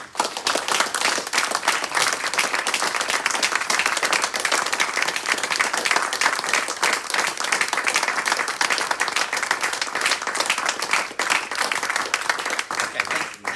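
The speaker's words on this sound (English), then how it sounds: "we thank Terry by giving her a round of applause for to celebrate her life" A sustained round of applause from an assembled audience honoring a woman's life, dense steady clapping filling the room for over thirteen seconds without a break.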